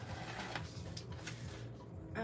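A computerized sewing machine stitching in reverse, a steady fast whirring hum with a rapid needle rhythm, close and fairly quiet.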